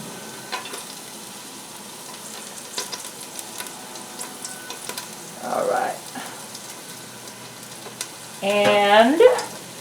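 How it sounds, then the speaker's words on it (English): Chopped garlic frying quietly in a pan, a soft steady crackle with small pops, joined by brief voices near the middle and end. "Let's go ahead and add ingredients. A chopped garlic."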